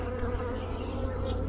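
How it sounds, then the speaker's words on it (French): Honeybees buzz inside a beehive, a dense, steady, close-up drone of many wings humming continuously with no breaks. "les abeilles travaillent dedans allègrement"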